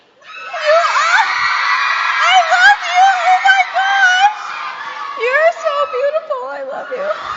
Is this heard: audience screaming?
yes